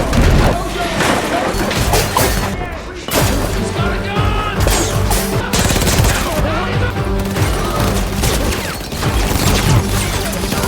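Gunfire and crashing in an action film scene, dense bursts of shots and smashes layered under a continuous loud score and effects, with someone narrating over it throughout.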